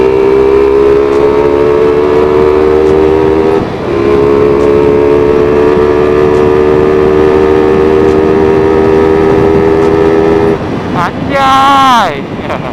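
A Suzuki Satria FU motorcycle on a smooth, wide road revs in a loud, sustained engine whine that climbs steadily in pitch, pauses briefly for a gear change, then rises sharply again, all over buffeting wind noise.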